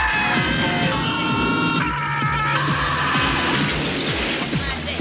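A film car skidding and crashing, with a steady loud engine roar, tire squeal and a run of repeated impact thuds, continuous and close.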